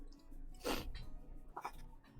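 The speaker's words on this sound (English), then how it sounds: "Why am I sneezing so much?" A single sharp sneeze bursts out near the start of a casual hangout among friends, followed by faint murmuring and rustling.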